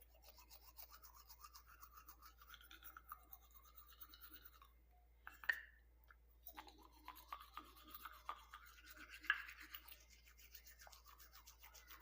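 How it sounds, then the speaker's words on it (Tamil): Teeth are brushed with a toothbrush and toothpaste, heard up close as soft, quick scrubbing strokes with a few sharper scrapes, fairly faint with no talking. "இப்போ நான் எப்படியெல்லாம் தேய்க்கிறேனோ அதே மாதிரியே நீங்கள் ப்ரெஸ் பண்ணி தேய்க்கணும்"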